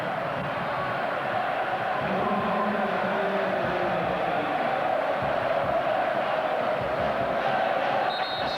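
A football crowd roars and chants at a Norway v England World Cup qualifier in 1993, forming a sustained wall of noise with rising cheers.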